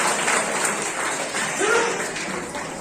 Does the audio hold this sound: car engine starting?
no